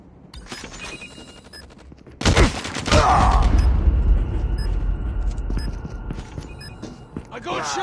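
Gunfire in CoD Mobile on the High Rise map: scattered shots, then a loud burst of rapid fire and booming impacts, with game beeps and a voice talking over it.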